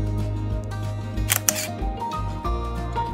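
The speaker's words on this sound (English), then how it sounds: "one of which is the sound of the shutter" An Olympus E-300 digital SLR fires its shutter close up, two sharp mechanical clacks in quick succession over a soft musical background.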